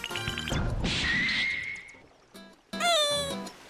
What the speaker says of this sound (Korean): 철조망을 부수는 거야 박살내 박살내